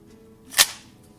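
A 12 gauge shotgun fires once at an outdoor shooting range, a single sharp blast that fades quickly, with no talk.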